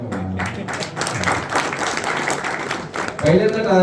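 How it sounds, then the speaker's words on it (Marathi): An audience bursts into a stretch of scattered clapping during a lecture, with a speaker's voice heard just before and after it. "पहिल्यांदा टाळ्या वाजल्या भाषणात."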